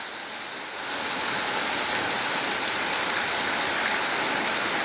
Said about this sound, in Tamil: எங்களோட ஊரில் மழை பெய்யுது